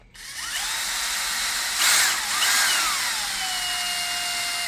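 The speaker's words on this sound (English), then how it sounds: "So I am going to just drill right here." A power drill whines steadily as it bores into engineered wood, its pitch rising and falling slightly as the bit bites, then settling to an even hum.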